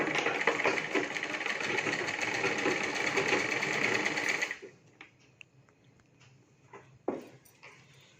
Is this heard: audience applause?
no